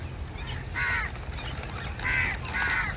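Crows cawing near a street spot where food is being put out, three loud harsh calls in close succession over a low background hum.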